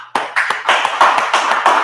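A small crowd claps in rhythmic bursts at a Feast of Purim gathering, each clap sharp and close, keeping a steady beat of roughly four to five claps per second.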